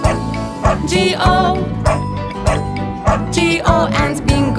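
A dog barks in time with the beat of the children's nursery song about a farmer's dog, short repeated barks riding over bright, loud music.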